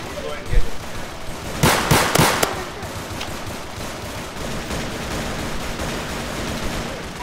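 Gunfire in the Roblox game Zombie Rush: a tight cluster of loud shot bursts about two seconds in, then a steady low game rumble, with players talking over it.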